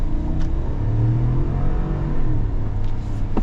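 A 2021 GMC Yukon Denali's 6.2-liter V8 pulls under acceleration, a loud, steady low rumble with rising and shifting engine tones heard from the cabin and no talking.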